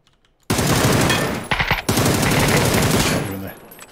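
Gunfire in PUBG, a long loud burst of rapid automatic shots, a brief pause of single cracks, then another sustained burst trailing off.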